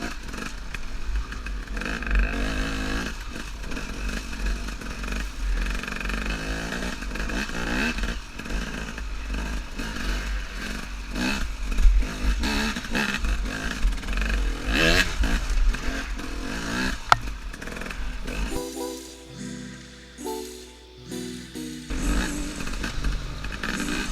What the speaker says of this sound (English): That's Mike in front of me. The KTM 250